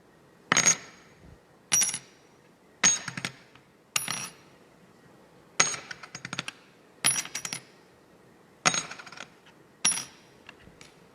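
A silver dollar coin is dropped onto a hard surface again and again, about nine sharp ringing clinks with brief rattling tails, loud and close, separated by short pauses and no talking.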